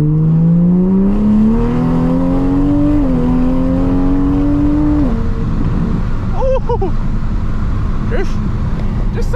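A Toyota Supra engine revs up through rising pitch, drops back on downshifts, then settles to a rough idle, loud and close, with occasional short squeaks near the end.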